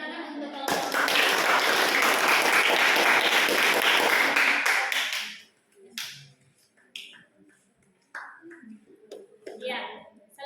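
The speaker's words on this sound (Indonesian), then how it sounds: "Kita beri tepuk tangan untuk kelompok." A classroom breaks into loud, dense applause for a student group that has just presented, lasting about five seconds before it cuts off abruptly, followed by scattered children's voices and talk.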